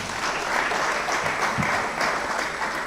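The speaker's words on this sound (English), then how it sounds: "Give yourselves a round of applause." Dense, steady applause from a large audience at a pan-African conference session on culture, arts and media, filling the space evenly without pause.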